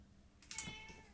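A cat lets out a single short meow close by, rising then falling, over quiet room noise.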